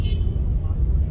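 Evening bumper-to-bumper traffic on Abdullah Haroon Road in Saddar, Karachi: a continuous low rumble of idling and creeping vehicles, fairly close, with a brief higher tone near the start.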